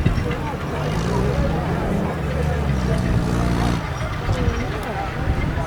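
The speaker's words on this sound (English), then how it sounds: "Shortly followed by James Duncan in his now slightly soggy Jeep." A military Jeep, wet from rain, rolling past at a steam rally, its engine a low steady rumble close by, heard under a commentator talking and crowd murmur.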